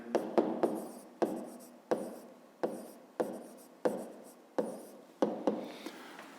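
Chalk or pen writing a math equation, a series of about ten sharp taps and short scratching strokes at an uneven rhythm, close and fairly quiet, with no speech over it.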